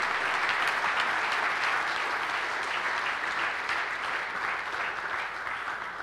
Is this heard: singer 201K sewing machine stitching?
no